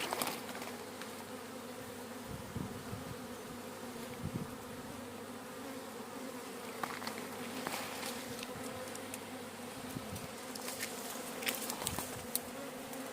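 A honeybee swarm settled in a thorny bush outdoors gives a dense, continuous buzzing hum, with individual bees droning close past the microphone now and then.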